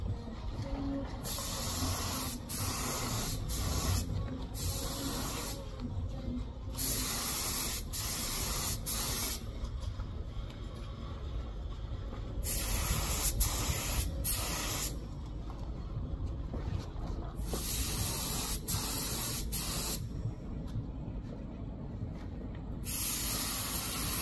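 Steady bursts of aerosol spray painting a second coat of color-shift pearl paint onto an Xbox One controller shell, long close hissing passes broken by short pauses.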